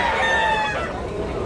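Roosters and chickens offered for sale at a Cebu Tabunok market crow close by in a short, drawn-out call over a background of market noise.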